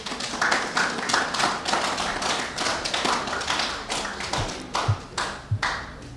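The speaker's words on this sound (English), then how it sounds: "I want the audience here to give you a round of applause for your singing" An audience claps for carol singing at a medical centre event, a scattered, uneven round of applause with a few loud individual claps standing out near the end.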